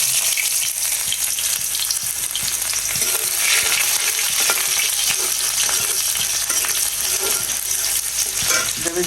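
Onion frying in oil in a wok along with cumin and bay leaf makes a loud, dense sizzle with stirring scrapes throughout and no speech.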